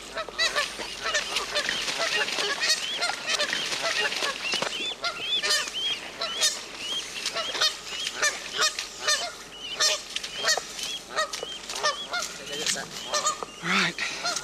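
Geese honk repeatedly in a noisy chorus at a wildlife rescue capture, with overlapping calls that are loud and continuous throughout.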